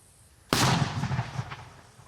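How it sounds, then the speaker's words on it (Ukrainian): A single sharp, booming mortar launch from a Ukrainian frontline position bursts out after a quiet moment, then rolls away in a rumbling echo. "Міньок, міномет готовий до бою."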